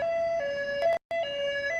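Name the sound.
ambulance siren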